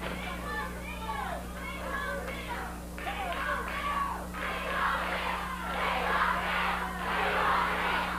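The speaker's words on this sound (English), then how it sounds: "Crowd hollering, we want Bill." Wrestling crowd at a 1980 Memphis TV match hollering and chanting together in a loud, continuous swell of many voices, rising toward the end over a steady background hum.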